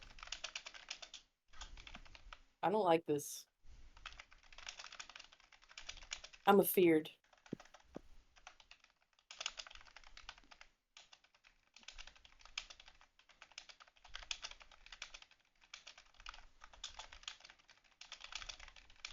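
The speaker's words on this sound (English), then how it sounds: "I'm typing it to you right now." Quiet, rapid keyboard typing clatters in irregular bursts, with a couple of brief spoken phrases breaking in partway through.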